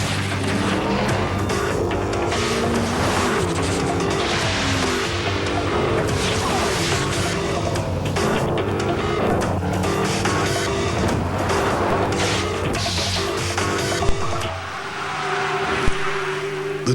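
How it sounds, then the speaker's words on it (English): A 300 horsepower Lexus GS roars loudly through a TV commercial, its engine note rising and falling with tire squeal and skidding, then briefly drops away near the end before a sharp hit. "The 300 horsepower Lexus GS."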